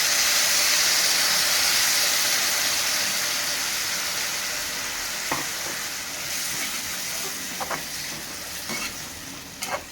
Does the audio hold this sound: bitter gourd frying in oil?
yes